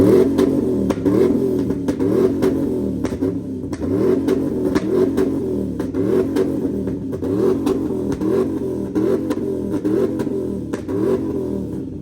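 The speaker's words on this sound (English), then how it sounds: "Rev it again." Chevrolet SS truck with a new full exhaust system, engine revved repeatedly in a steady rhythm of rising and falling blips, loud and close with a deep rumbling tone.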